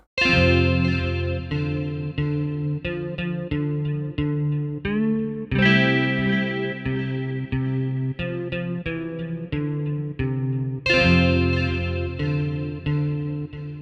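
A synthesizer plays a sequence of distinct stepped notes, each jumping cleanly to the next pitch without sliding, bright and sustained with no talking.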